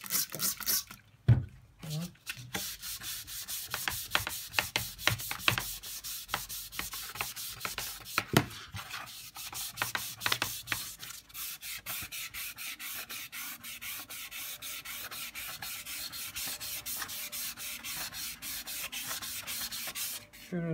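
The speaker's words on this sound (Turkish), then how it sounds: "Evet, zımpara işlemi devam ediyoruz." A painted car mirror cover on a Fiat Punto is sanded by hand, giving a long series of fast, close, scratchy rubbing strokes in a steady rhythm with brief pauses, as someone talks now and then.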